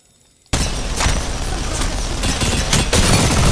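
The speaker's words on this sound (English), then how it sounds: "Mini gun's the fastest killing gun in the game." A minigun in Apex Legends opens up after a brief silence and roars in one continuous, loud, close stream of rapid fire that keeps going to the end.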